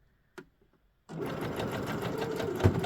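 Sewing machine stitching down a zipper, a brief click first, then the motor starts and runs in a steady close, fast whirring stitch to the end.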